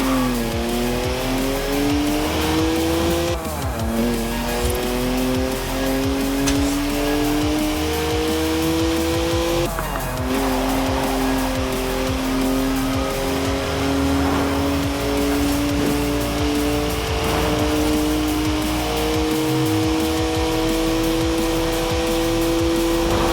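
BMW twin-turbo 3-litre straight-six with 335 horsepower drifting sideways in Forza Horizon 4, engine revving up through gears with brief shift dips while tires squeal continuously, loud and close throughout.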